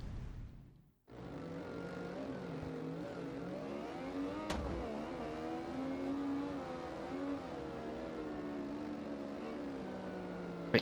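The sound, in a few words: motorcycle engine accelerating in video game Ride 2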